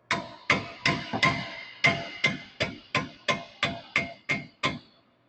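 A drilled and slotted brake rotor on an S197 Mustang is smacked into place with about a dozen evenly spaced, sharp metallic blows at close range, each ringing briefly before the next.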